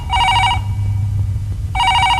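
A telephone rings in a Telugu action movie scene: loud, bright electronic ring bursts at the start and again near the end, separated by a short pause filled with low background rumble.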